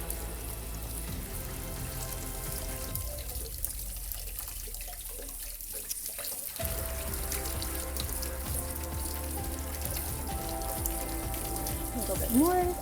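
Tap water runs steadily over drained cherries being rinsed, and the flow of water shifts in tone as the fruit is moved under it.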